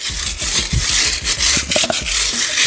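DIY Details scrub brush working over a car tire during a wash: quick, repeated rough scrubbing strokes, close and fairly loud, with a steady bristly rasp between them.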